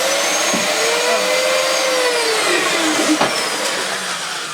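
A Dyson DC20 Stowaway vacuum cleaner runs loud and close over thick pile carpet, a steady roaring whoosh whose pitch sweeps up and down as the head is pushed and pulled, with a couple of bumps and no talk.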